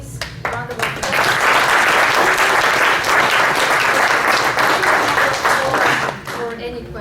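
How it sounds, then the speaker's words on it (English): An audience applauds after a talk on human trafficking at a conference, with dense, loud clapping sustained for about five seconds before fading, and a voice speaking briefly at the start. "So please, round of applause."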